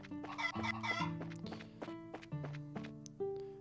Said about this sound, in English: Ooh, we got some chickens. Chase the chickens.